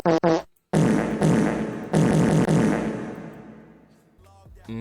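A comedic fart sound effect is heard as several loud, buzzy blasts: two short bursts, then longer sputtering ones, the last trailing off into a drawn-out squeak.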